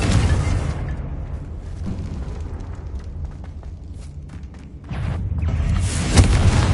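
Confringo fire spells burst in Hogwarts Legacy, a loud, dense rumble of booms and blasts that rolls on steadily, with sharper pops near the end and no talking heard.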